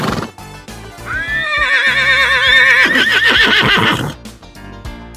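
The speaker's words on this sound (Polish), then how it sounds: "Koń rży." A horse lets out a loud, close neigh, a rising then quavering whinny lasting a few seconds that trails off into snorting breaths, with no one talking over it.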